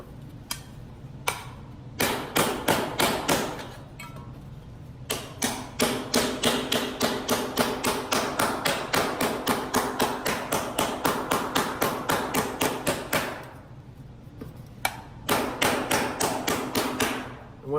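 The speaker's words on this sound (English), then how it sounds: "I used the big part of the hammer, and then when I start getting like high spots in the metal, I use the smaller part and knock those down" A hammer shaping a compound-curve sheet metal panel, striking in fast regular bursts of sharp metallic blows, with brief pauses between runs, loud and close with no talking.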